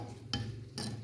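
Ground biryani masala spices are stirred together in a dish at home, giving two short, soft scraping strokes of a spoon against the container over a faint low hum.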